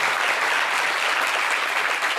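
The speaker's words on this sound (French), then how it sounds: "Applaudissez pour les artistes" A live studio audience claps steadily and loudly, a dense continuous wash of applause for Ivorian performers, with no voices over it.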